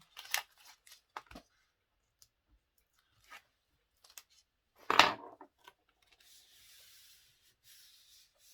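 Scissors snipping through paper for a scrapbook album, a few sparse crisp cuts with one louder closer snip midway, alone in a quiet room.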